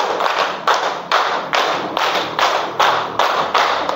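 A classroom of students performs a tepuk yell, clapping in a steady rhythm of about eight sharp, loud claps at roughly half-second intervals, with no talking over them.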